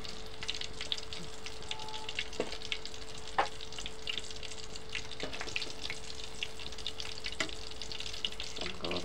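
Mini chicken kebabs fry in a pan, giving a steady quiet sizzle with scattered small pops and crackles and a faint clink now and then, and no voices.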